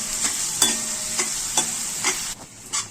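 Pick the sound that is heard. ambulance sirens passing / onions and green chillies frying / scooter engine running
onions and green chillies frying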